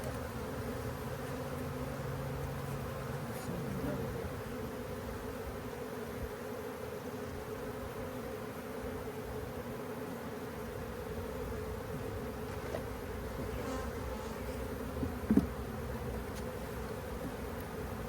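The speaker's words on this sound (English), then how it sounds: "Now when they buzz like that, does that mean they're mad?" Riled-up honeybees drone in a dense, continuous buzz during a hive inspection, holding an even level throughout, with a tiny knock or tap near the end and no voices.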